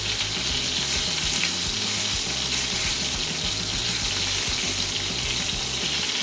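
Steak sears in a pan, fat crisping into a crust, giving a steady, close sizzle and crackle that runs without pause and with no talking.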